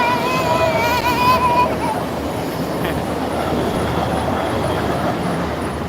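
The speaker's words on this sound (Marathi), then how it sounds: "गेली ट्रेन गेली का बेटा" A train at a railway station near Kalyan, its loud, steady rumble of wheels and carriages filling the scene, with a brief squealing tone early and talk in the background.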